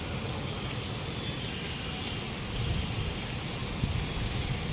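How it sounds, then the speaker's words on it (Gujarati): Heavy, continuous rain pours down outdoors in a dense, unbroken hiss with no pauses and no voices, staying steady throughout. "જો આમ નજીકથી બતાવું તો તમને દેખાય કેટલો વરસાદ આવે છે"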